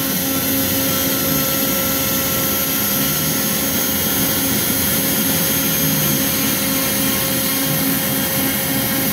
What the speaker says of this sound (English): It's not escaping through the big hole, because the downdraft from the router is pushing.